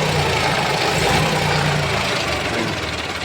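A John Deere 5038 D tractor engine, company-fitted and in original condition, idles close by with a steady low rumbling chug that holds at an even loudness throughout.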